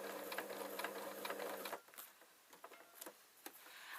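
A sewing machine stitches through oilskin PVC tote bag material in a fast, close, rhythmic whirr that stops abruptly after under two seconds, followed by a few soft clicks and taps.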